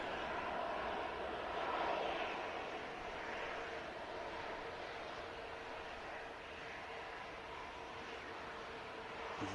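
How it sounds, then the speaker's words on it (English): An EasyJet airliner climbing out after takeoff at an airport, a steady distant jet roar that swells slightly then fades a little over several seconds, with no talk. "As the EasyJet climbs out."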